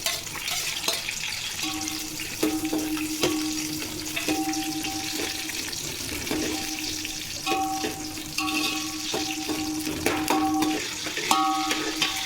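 Green chillies sizzling in hot oil in a pan, a steady loud fry that runs throughout with a few clinks of a utensil stirring against the pan and no talk.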